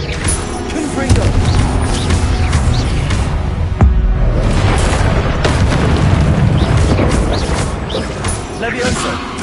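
Fire-spell explosions burst in the Hogwarts Legacy video game, heavy booms and crackling blasts layered over dense continuous game noise, with a sharp impact near the middle of the stretch.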